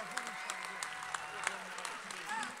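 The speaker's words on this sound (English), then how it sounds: "a big, big, big, big round of applause to every single competitor who brought it tonight" Crowd at a York culture event gives competitors a round of applause at the close of the night; clapping stays moderate and steady throughout, with cheers and voices mixed in underneath.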